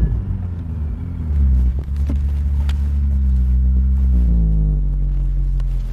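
A Ferrari engine rumbles loudly up close, its pitch rising and falling as the car is driven, with a brief mechanical click partway through.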